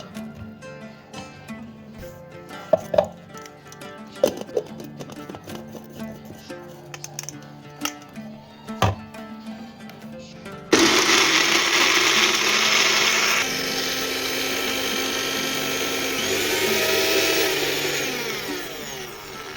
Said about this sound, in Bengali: এই যে আমি একটা জার নিয়ে নিলাম, এবার এর মধ্যে মিক্সিতে পিষে নেব।